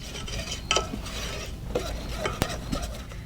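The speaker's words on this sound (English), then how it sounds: "just on low heat, just want to mix it for about 2 to 3 minutes" Fenugreek hair oil is stirred in a pan over low heat, giving soft scraping and clinking of a utensil against the pan, with a few sharp taps among a quiet background hum.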